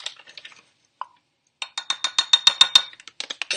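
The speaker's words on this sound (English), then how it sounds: "When you're whisking cornstarch into a liquid like this, the liquid has to be cold" Flour being whisked into mushroom gravy: a quick run of scraping, clinking strokes of the whisk against the pot, rapid and fairly close, after a brief pause near the start, with no talk.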